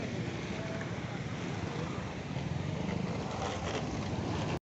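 Boats at the Paradeep fishery harbour by the river mouth make a dense, steady rumble mixed with wind buffeting, loud and unbroken until a sudden cutoff.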